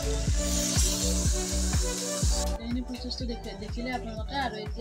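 Soaked red chili and meat masala sizzle loudly in a hot pan while paneer is being made, a steady hiss that briefly eases midway as the mixture settles, with a few knocks from stirring.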